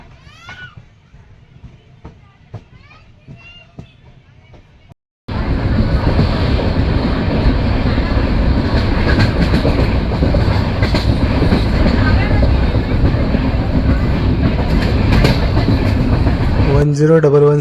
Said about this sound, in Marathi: आजची आपली जी ट्रेन आहे ती आहे 10116 मडगाव बँड्रा टर्मिनल्स एक्सप्रेस